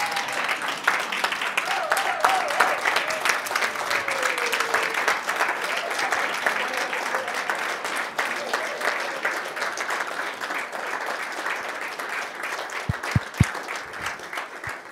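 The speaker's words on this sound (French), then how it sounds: "Est-ce qu'on peut se lever pour applaudir pour lui?" A seated audience at a talk rises and applauds, a dense, sustained wash of clapping that stays loud and even throughout, with a few sharp thumps near the end.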